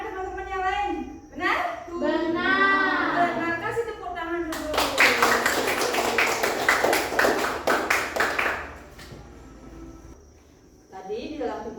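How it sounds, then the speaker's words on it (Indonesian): A classroom group claps together, a burst of rhythmic, evenly spaced hand claps lasting about four seconds, framed by a teacher and children talking before and after. "Kasih tepuk tangan dulu."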